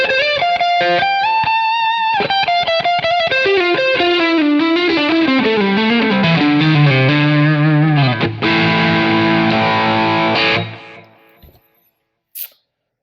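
An electric guitar through a Quad Cortex modeler plays a loud run of distorted notes and chords, descending then sustaining before fading out, followed by a short click near the end.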